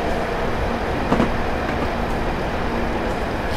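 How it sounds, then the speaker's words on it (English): A Class 158 diesel train in Train Simulator 2018 runs along the North Wales coast line between Abergele and Shotton, giving a steady, loud rolling rumble on the rails with one brief clunk partway through. "Let's slow down the train."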